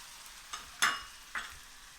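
Two small garlic cloves land in a hot pan of soup vegetables with carrot, giving three short sizzling bursts, the middle one loudest, over a quiet background with no talk.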